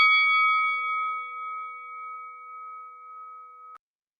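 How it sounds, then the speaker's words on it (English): A single bell tone rings out clear and sustained, one struck note with bright overtones that fades slowly before being cut off sharply, heard alone indoors with no talk. "what that bell actually says is that time is actually running down on us"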